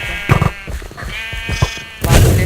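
Sheep bleating in the video game Sheep Quest, several loud, close, wavering bleats one after another, with game noise under them and no talk.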